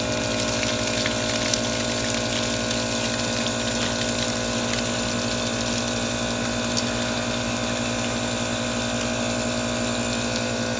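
Compressed air blasts through a long nozzle into the water lines of a Rockwood Mini Lite 2205S RV, pushing water out in a steady, loud rushing hiss with a mechanical hum beneath, continuous and close for the whole stretch.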